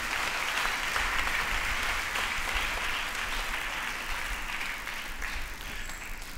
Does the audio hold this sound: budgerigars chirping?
no